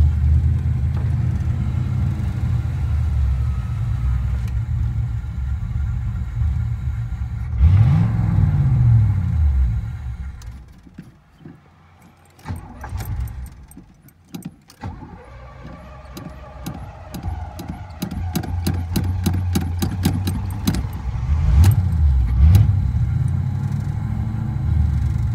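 A 1982 Pontiac Trans Am engine idles roughly and unevenly, with a loud low rumble that surges, dips nearly to stalling around the middle, then picks back up into a shaky, lumpy idle.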